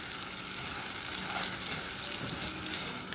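Vermicelli rice fries and browns in a pan while being stirred, giving a continuous close sizzle with light scraping and small crackles and no talking.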